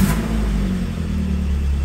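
The engine of a modified 2003 Suzuki Espass runs at a smooth, steady idle, a loud continuous low rumble with no voices.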